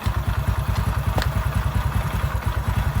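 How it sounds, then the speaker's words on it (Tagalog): A motorcycle engine idles close by during headlight regulator work, a loud, steady low thumping putter with a fast even rhythm throughout. "Nakabuhay yung ating motor."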